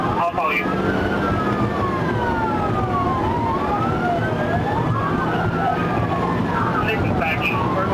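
Police car siren wailing continuously during a high-speed pursuit, loud and close, its rising and falling tone sweeping steadily over road and engine noise.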